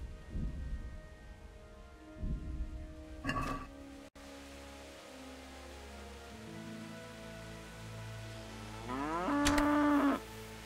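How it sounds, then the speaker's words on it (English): Cattle lowing in Kingdom Come: Deliverance, a few deep moos spaced apart over a steady rain-like ambient bed, with a louder drawn-out call near the end. "That is the alpha cow."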